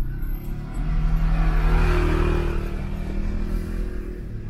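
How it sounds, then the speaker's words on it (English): A quad bike passes on a green lane in Shropshire: a rumbling engine swells to its loudest midway, then fades gradually, heard from inside a vehicle. "Let me let this quad bike go past."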